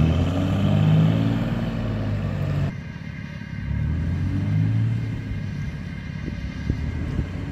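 A small buggy pulling out of sand in Arizona, its engine giving a steady, loud low rumble that dips briefly and then returns, with a few faint knocks near the end.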